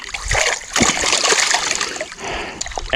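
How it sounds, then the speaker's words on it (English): Water splashing and sloshing in a pan while gold paydirt is panned, loud and close, with irregular splashes, trickles and pours throughout. "you can just simply put water into the bucket and then dump it into the pan"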